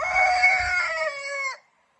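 A rooster crows once, loud and near, a long drawn-out call that cuts off abruptly, followed by silence.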